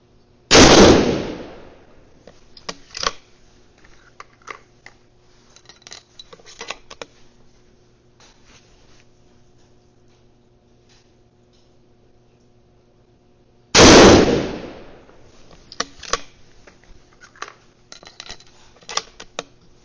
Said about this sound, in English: So now we're shooting the bottom right target.